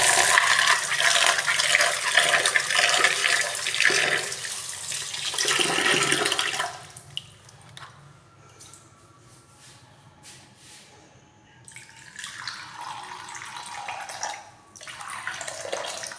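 Water splashes and pours loudly for several seconds into cooked rice being mixed, then stops to quiet with small drips and clinks before another burst of pouring.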